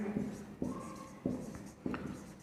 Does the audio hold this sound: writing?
yes